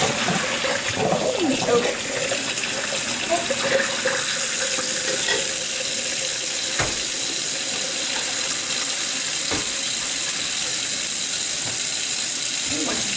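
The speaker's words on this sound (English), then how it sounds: "Turn on cold water because I always have." Cold water runs from a kitchen tap into a sink while pasta is being drained, a loud, steady hiss and splash that continues throughout, with brief quiet speech and a few light clunks.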